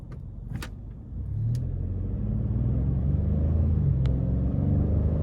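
A 2024 Ford Expedition King Ranch with a 3.5-liter twin-turbo V6 accelerates, its engine note rising into a steady, building rumble heard from inside the cabin, with a few faint clicks early on.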